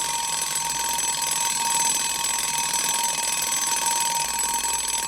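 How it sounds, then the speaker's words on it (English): An alarm clock rings steadily and continuously in an indie horror video game, a bright electronic tone holding at even volume for about five seconds with no voices. "I thought if I just left the alarm clock ring for like 20 seconds,"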